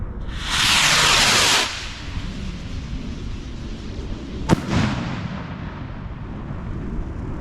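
Vivid Pyrotechnics VSR4 4-inch firework rocket from a 2023 batch launching outdoors: a loud rushing whoosh for about a second, then a sharp distant bang with a fading rumble and low background noise.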